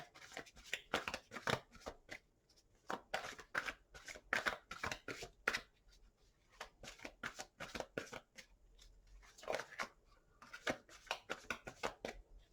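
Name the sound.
shuffling tarot cards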